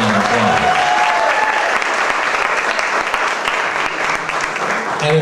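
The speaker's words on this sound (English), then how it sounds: "I'd like you to give her a nice round of applause" Wedding guests at an afternoon reception applaud loudly and steadily as a large crowd, with no break in the clapping for about five seconds.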